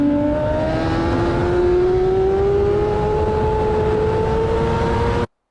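A motorcycle accelerates hard out of a corner at the Donington race track, its engine note climbing steadily in pitch as it pulls away, loud and close throughout before cutting off suddenly.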